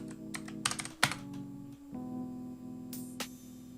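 A computer keyboard typing in a numeric code: a quick burst of close, loud keystrokes, then a few scattered taps, over a steady tonal hum.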